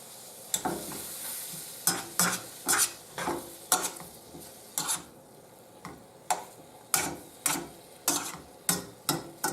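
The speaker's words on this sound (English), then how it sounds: "And then turn the fire on. And you want to cook this until the onions gets hot and starts" Onions frying in a pan on the stove: a steady sizzle, repeatedly stirred with sharp scraping strokes in an uneven rhythm, close and clear with no talking.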